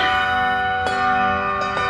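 A large bell rings loudly with a long, rich sustained tone, struck again a few times so the resonant peals overlap.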